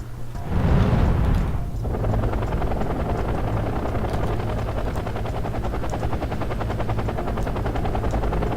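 Military helicopters in the video game Wargame: European Escalation give a steady, dense rotor chop over a low engine drone. A heavier rushing burst comes early on, then the thrum runs continuously and loud, with no talking.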